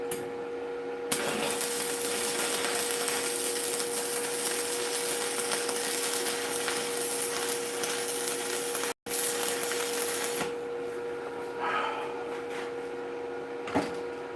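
Arc welding, with a sustained crackling, sizzling buzz that runs loud and steady for several seconds, breaks off briefly, restarts and then fades as the arc stops, with a few sharp clicks near the end.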